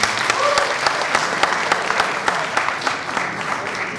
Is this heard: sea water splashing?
no